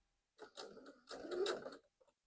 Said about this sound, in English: I'm going to stitch up that seam allowance line to the next stitch line.